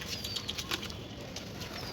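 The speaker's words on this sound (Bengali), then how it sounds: "আমাদের সব কবুতর বের হয়ে গিয়েছে" Pigeons just released from a loft flap their wings in a soft, continuous flurry of fluttering bursts, fairly faint and somewhat distant, with no talk.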